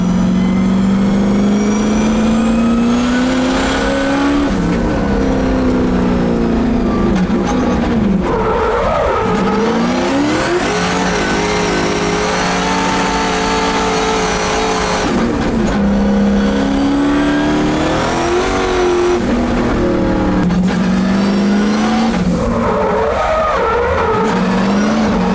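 A 1000whp drift car on an open track revs hard and loud throughout, its engine note rising and falling with repeated throttle blips, sustained wails and tire noise, close and continuous with no talk.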